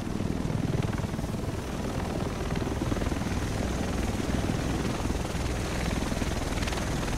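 A helicopter arrives in The Division video game, its rotor beating with a loud, steady, throbbing chop that holds throughout with no voices.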